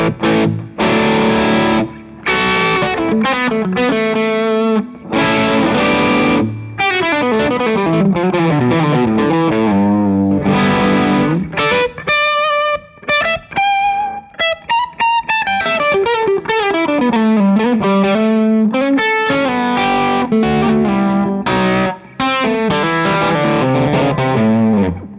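Overdriven Gibson ES-335 electric guitar through a Revv Chat Breaker pedal plays a long melodic passage with chords and single-note runs, warm and saturated, steady and loud with no talking.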